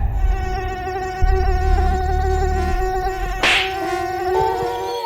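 Mosquitoes whine steadily through a cartoon horror story about ghosts at a cremation ground, a thin, continuous high-pitched buzz held close with layered harmonic drone and a brief sharper swell midway, no talk over it.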